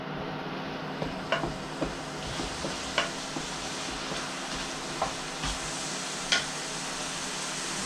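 Onions sizzle steadily in a pan after butter is added, a constant close hiss with a low hum underneath and scattered light clicks and taps from stirring.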